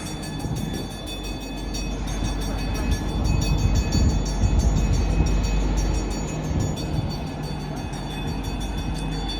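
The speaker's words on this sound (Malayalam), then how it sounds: "ട്രെയിനൊരു രക്ഷയില്ല." A Pikes Peak cog railway train rolls past, a loud continuous rumble and mechanical rattle that swells in the middle as it draws nearest, then holds steady as it moves on.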